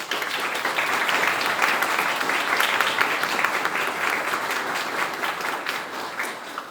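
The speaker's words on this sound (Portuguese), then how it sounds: "E com Jesus, uma salva de palmas a cada um de nós" Audience at a lecture on anxiety breaking into sustained applause, a broad, even wash of many hands clapping that holds steady for several seconds without speech.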